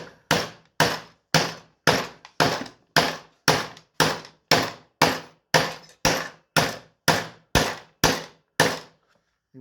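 A hammer taps a socket to seat a plug in the valve cover of a 2017 Dodge Journey engine, giving about eighteen sharp, evenly spaced metallic knocks, each decaying quickly, loud and close with no talk.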